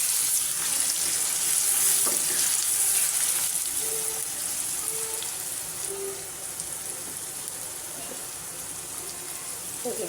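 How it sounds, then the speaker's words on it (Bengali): Spice paste frying in a pan for a home-cooked curry, a steady bright sizzle filling the whole stretch with faint scraping and a few clinks, easing slightly in loudness toward the end. "পেস্টটা একটু ভাজা নিই"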